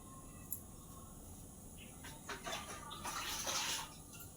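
A pot of water for rice boils on a stove at a rolling boil, with a close bubbling and burbling that grows louder toward the end of the short stretch.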